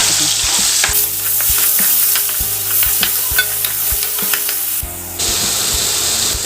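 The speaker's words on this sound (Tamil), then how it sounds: "இதில் நம்ம இஞ்சி பூண்டு வெங்காயம் எல்லாம் பச்சையாக சேர்த்துருக்கோம். அதனால் இது நல்லா ஆயிலில் நல்லா வதக்கி கொடுத்துக்கலாங்க" Raw onions, ginger and garlic sauté in hot oil for a channa masala gravy, a loud continuous sizzle broken by regular clicks and scrapes of a spatula stirring the pan, briefly dipping before the hiss surges back.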